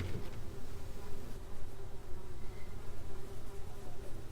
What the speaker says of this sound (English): This time, it was crawling with the buzzing backs of flies, a wave of the pestilent insects lifting off and then circling back around,